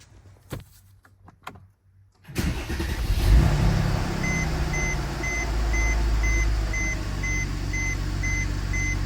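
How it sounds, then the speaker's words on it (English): A 2014 Mercedes E350 Coupe (C207) starts up after a spark plug and boot replacement: after a quiet stretch with small clicks, the engine turns over loudly and settles into a steady close idle, with faint repeating electronic chimes from the cabin. "Now we can start the car to see if there are any errors."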